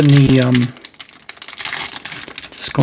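A Magic: The Gathering play booster's foil wrapper crinkles loudly up close for a moment, then tears and rustles in short bursts. A voice talks briefly near the start.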